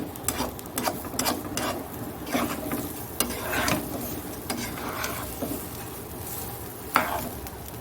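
Food frying in a pan with salt and chili powder just added, giving a steady close sizzle broken by repeated sharp scraping strokes of a spoon stirring against the pan.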